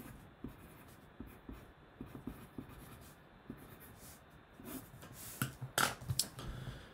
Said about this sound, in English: So I'm going to write in this box here, option 1